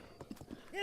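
A horse's hooves clip-clop in Zelda: Breath of the Wild, a quick run of about five soft beats, faint and brief, with a voice coming in at the end.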